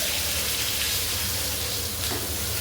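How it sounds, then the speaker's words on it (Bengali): Potatoes fry in hot oil seasoned with turmeric, giving a steady, dense hiss that stays loud and even throughout, with no voices. "তো এবার একটু আলু ভেজে নেব।"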